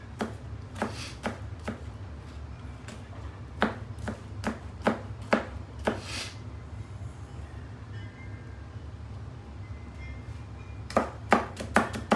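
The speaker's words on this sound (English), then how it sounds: "And this hand chopping is my favorite." Sharp knife chopping salsa vegetables by hand on a board, close distinct chops in quick runs separated by pauses, over a low steady background hum, no talking.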